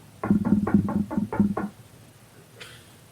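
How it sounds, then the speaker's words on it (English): Six firm knocks on a door in a quick, even run, close and clear, followed by quiet and a brief faint sound afterward. "within your memory you hear a knock on the door"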